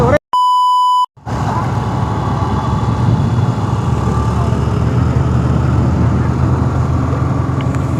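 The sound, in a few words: censor beep sound over speech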